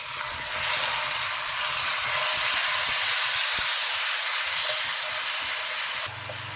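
Yogurt poured into hot oil with frying spices hisses and sizzles loudly in a steady wash of steam-like noise, easing slightly at the end; no talking.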